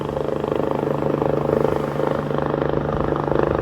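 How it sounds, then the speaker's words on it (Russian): A firefighting helicopter on a rescue call near the cliffs of Étretat in Normandy makes a steady, loud, throbbing rotor and engine drone with no break. "Это пожарный вертолет"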